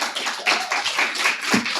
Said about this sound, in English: a round of applause for Dan Pippinger